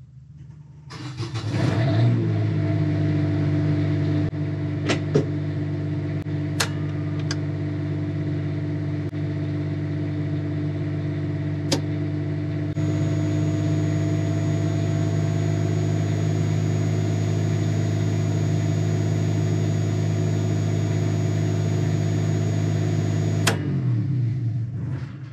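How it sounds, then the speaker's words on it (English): An Onan generator on an RV cranks, catches and settles into a steady, loud mechanical hum with a strong low tone, running for about twenty seconds with a few clicks before cutting off abruptly. "I'm going to fire up the generator so you can watch this kick over"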